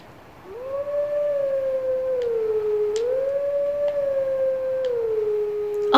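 Wolf Link howls in Zelda: Twilight Princess, a single sustained, melodic wolf howl that rises and falls in pitch, held clearly and loudly for several seconds with no talking.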